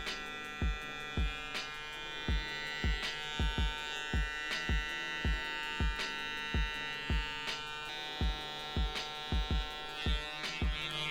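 Electric hair clippers buzz close and steadily during a home haircut, with a rhythmic series of soft knocks and taps as strokes blend the hair, and no voices.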